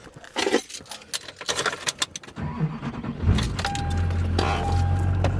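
Keys jangle and a door clunks before a 2003 manual LB7 Duramax diesel truck cranks and fires up, settling into a steady, loud low idle with a faint whine on top.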